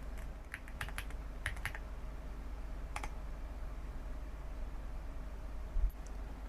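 Typing on a computer keyboard at a Mac mini, with a few scattered quick key clicks, a brief burst, then a pause and one more clack over a low steady room hum, quiet and close, with no talking.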